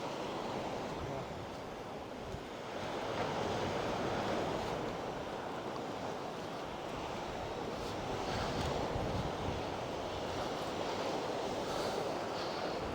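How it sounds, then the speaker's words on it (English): Steady wash of sea waves breaking on a shore, with a broad hiss and some wind buffeting the microphone. "listen to the ocean or the sea."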